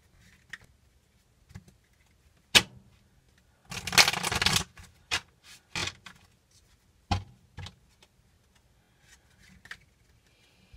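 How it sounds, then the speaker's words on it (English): Crisp riffling bursts of a new deck of cards being shuffled, a loud flurry in the middle with scattered shorter snaps and taps around it, close by. "I'm trying to shuffle them up really good because this is a new deck."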